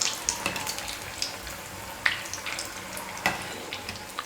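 Bondas fry in hot oil in a pan, giving a soft, steady sizzle broken by sharp clinks and scrapes of a ladle stirring them at irregular intervals, close by with no talking.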